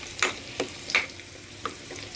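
Garlic, cumin and dried red chillies fry in a pan, a soft steady sizzle broken by a few sharp scraping stirs, close and without talk.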